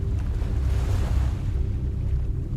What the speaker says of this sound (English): All he could see was the pitch black water flowing under the bridge.